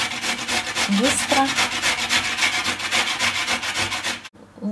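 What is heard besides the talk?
coconut being grated on a fine grater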